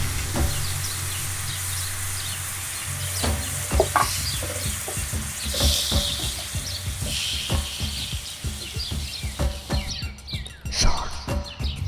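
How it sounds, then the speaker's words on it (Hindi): Chicken steak grilling over medium heat, a steady sizzle broken by scattered clicks and scrapes as the pieces are flipped, heard close with no talking. "दरमियानी आंच पर अच्छी तरह ग्रिल करें और पलटते रहें"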